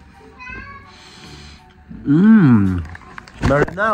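A cat meows twice, close and loud: a long, wavering, rising-and-falling call followed by a shorter, sharper one, with softer indoor sounds before them.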